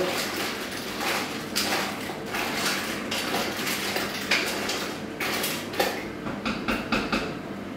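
Mussels in cream with alcohol-free white wine stirred in a cooking pot, with repeated scraping and clinking of a utensil against the metal and a wet, sloshing churn throughout.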